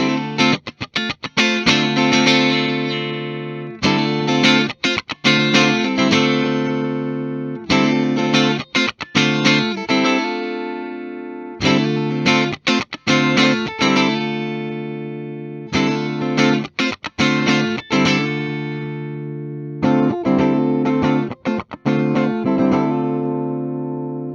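A distorted electric guitar, a HEX T200 T-style, strums repeated chords in bursts with short pauses between while its tone knob is turned, its brightness shifting only slightly across the passes.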